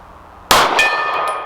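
A 9mm pistol round strikes a steel gong target at distance, producing a single bright metallic clang followed by a sustained ringing tone that slowly fades, with a softer secondary ping shortly after.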